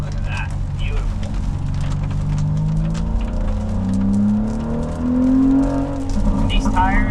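A car on Michelin Pilot Sport All Season 4 tires powers through corners on a wet mountain road at the Tail of the Dragon, its engine droning steadily and rising in pitch as it pulls out of the turns, with a voice talking over it.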